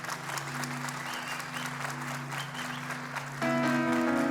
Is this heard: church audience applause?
yes